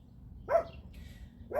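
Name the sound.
dogs barking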